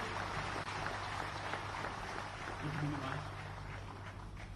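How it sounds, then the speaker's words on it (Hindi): Steady audience applause fills an inauguration ceremony for projects at an Indian government event for the Central Armed Police Forces, held at a constant level throughout, with a voice faintly audible beneath it. "आप सभी लोगों की तालियों के साथ हम अभिनंदन करना चाहेंगे।"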